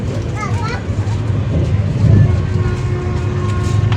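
Inside a moving passenger train running from Bolpur to Howrah, a steady low rumble of the carriage fills the space while children's voices and other talk rise and fall over it.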